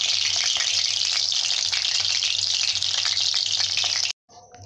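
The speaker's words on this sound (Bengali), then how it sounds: "হালকা আঁচে এইভাবে ভেজে নিবে তোমরা" Meat frying in oil over low heat, a steady close sizzle with faint crackles and spatter running without a break, then cutting off abruptly near the end.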